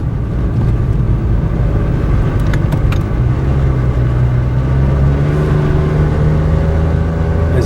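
A car engine labours up a steep slope in low gear, a steady loud drone that holds and slowly rises in pitch, with no talking.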